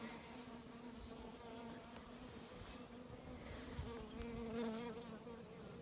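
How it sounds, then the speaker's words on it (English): Honeybees buzzing around empty hives being cleaned out, a steady close drone with shifting pitch as several bees fly near, loudening briefly toward the end. "and they're definitely honeybees."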